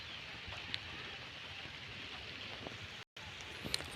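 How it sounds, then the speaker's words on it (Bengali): Light rain patters steadily in a Bangladeshi village, a soft continuous hiss with scattered drops, broken by a brief gap near the end. "টিপ টিপ বৃষ্টি"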